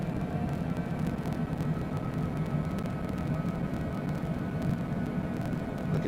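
Jet airliner engine and cockpit drone from Microsoft Flight Simulator 2020, on approach with gear down and flaps set, a steady broadband rumble and hum held at even loudness throughout.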